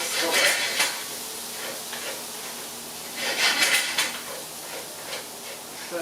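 Garlic sautés in a skillet for a creamy corn and chicken dish: a steady close sizzle broken by bursts of metal utensil scraping and stirring against the pan.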